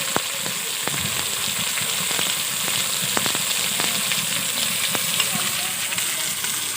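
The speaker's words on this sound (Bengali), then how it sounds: "মশলাটা ভালো করে কষে নেব।" Spice masala with turmeric and salt sizzles and crackles steadily in a hot pan, with scattered sharp pops over a constant bright frying hiss, close and fairly loud throughout.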